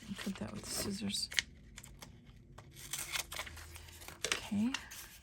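Several crisp snipping and paper-rustling sounds close by as scissors cut bookmarks for junk journals, scattered between quiet moments, with soft speech heard now and then.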